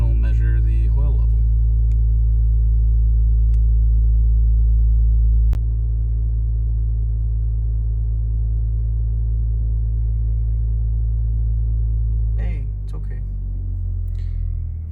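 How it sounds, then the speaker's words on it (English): A Toyota Supra MK5 idles and automatically revs to measure its oil level, a loud low steady engine drone that steps down in pitch partway through and shifts again near the end, with brief talk at the start. "So now it starts auto revving up,"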